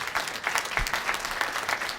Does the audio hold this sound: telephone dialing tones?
no